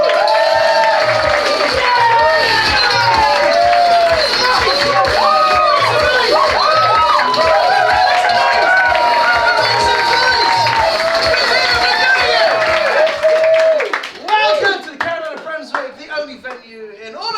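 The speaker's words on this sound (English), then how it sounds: "Put your hands together, start clapping" A Brighton Fringe comedy show crowd claps and cheers loudly for a comedian taking the stage, with whoops and shouts over steady rhythmic clapping that stops abruptly near the end.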